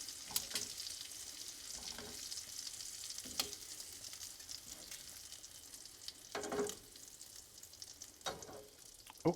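Shrimp fry in butter for shrimp scampi with a continuous hiss of sizzling, punctuated by sharp pops and crackles at irregular intervals, close and moderately loud, with no talking.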